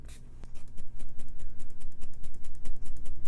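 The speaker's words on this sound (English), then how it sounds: "I think I'm gonna do one more spray with this finishing spray" Makeup finishing spray is pumped onto the face in a quick series of soft, rhythmic hissing spritzes, close to the ear and fairly quiet.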